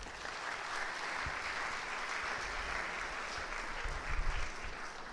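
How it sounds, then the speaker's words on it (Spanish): A seminar audience applauds to welcome a speaker in Argentina, a steady, full wash of clapping from a large room, with a few low thumps and knocks near the end. "Lo recibimos con este agradecimiento y este aplauso"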